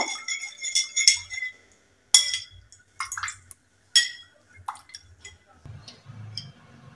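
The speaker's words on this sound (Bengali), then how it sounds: "তো ভালোভাবে এগুলো মিশিয়ে নেব" Yeast and salt being stirred together in a bowl, with light clinks and scraping taps in irregular bursts, fairly close and moderately soft, followed by a low rumbling rustle near the end.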